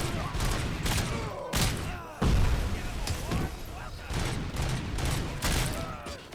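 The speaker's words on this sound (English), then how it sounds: "Especially when this machine gun starts shooting at you." Heavy machine gun fire in a video game: loud, dense volleys of shots and thumping impacts repeat in bursts, with a voice talking over the din.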